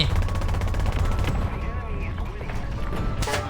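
Rapid, loud gunfire rattles in a tank battle in the War Thunder Mobile game, a fast burst of close shots running steadily before breaking off, with a brighter crack near the end.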